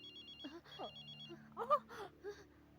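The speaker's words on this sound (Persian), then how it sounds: "صدای موبایل است" A mobile phone rings in a quiet space with a repeated electronic ringtone pattern, while people speak over it and around it.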